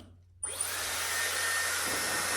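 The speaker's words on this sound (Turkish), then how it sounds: "saç kurutma makinesiymiş bu arkadaşlar" A Dyson hair styler running as a hair dryer switches on after a brief silence and then blows steadily with a loud, close, airy whoosh and a high motor whine, with no talking.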